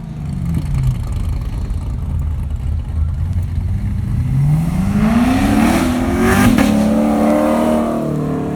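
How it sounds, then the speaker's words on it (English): A 2017 Chevrolet Corvette Grand Sport rolls past at a car show's exhaust contest, its V8 burbling low and then rising into a loud, rasping rev as it accelerates close by, with no talk. "Joseph with a 2017 Grand Sport."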